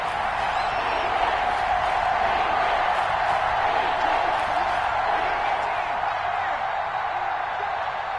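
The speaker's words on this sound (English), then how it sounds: "The crowd getting into it as we come up on a big 3rd down." A stadium crowd roaring in an American football video game ahead of a big third down. A dense, steady wash of cheering sits under a commentator's voice throughout.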